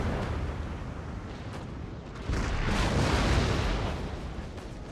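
Mortar bombardment in a video game battle between Ottoman and Prussian armies, a dense continuous rumble of distant blasts that swells louder midway, with no talking.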